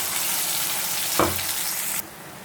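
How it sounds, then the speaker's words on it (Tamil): Masala stirred with fried onion and tomato in a pan for a simple fish curry, a loud continuous sizzle with one scraping stir near the middle before the frying noise suddenly drops away. "மசாலா போட்டு நல்லா கிண்டியாச்சு"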